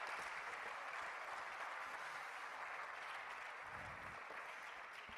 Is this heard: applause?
yes